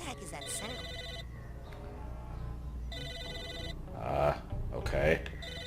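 Old-fashioned telephone bell ringing in the video game Psychonauts, repeating bursts of a bright electronic ring with pauses, heard alongside game music and a voice talking over the end.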